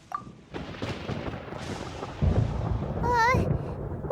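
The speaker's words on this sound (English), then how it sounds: "Paimon hears thunder!" Thunder in the video game Genshin Impact, a deep rolling rumble that builds and swells over several seconds alongside game sound effects, with a short high warbling tone near the end.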